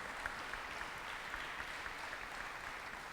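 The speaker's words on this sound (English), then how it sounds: "please give them a round of applause to all the workers who put this on today." Steady applause from an audience at a Hispanic Heritage Month event at a city hall, a dense wash of clapping heard at a distance, fairly faint and continuous.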